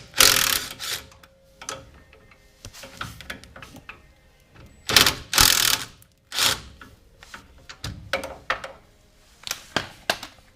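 A ratchet loosens 15mm bumper bolts on an LML L5P Duramax truck, giving bursts of quick mechanical clicking in short irregular runs with pauses between them, close and fairly loud.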